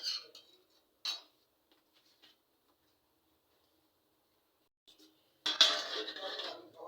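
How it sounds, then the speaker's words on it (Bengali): A lid goes onto a cooking pot of simmering vegetarian bori curry: two sharp metallic clinks at the start, a long quiet stretch, then a louder rattling clatter as the lid settles near the end, with no talking. "এবার ঢাকা দিয়ে দিচ্ছি।"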